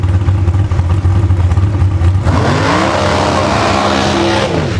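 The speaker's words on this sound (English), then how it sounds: "He has now earned a seat at the wheel of this B Dragster automatic over on the right-hand side." B Dragster automatic drag racing car engine at a drag strip, a loud roar that surges and rises in pitch as it launches down the track, close and dominant.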